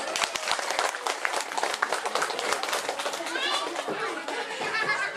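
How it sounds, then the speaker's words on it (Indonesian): Audience clapping at a kindergarten Muharram drama performance, a dense steady round of applause from parents and children lasting throughout, with chatter and children's voices mixed in. "Ya, tepuk tangan, Bu."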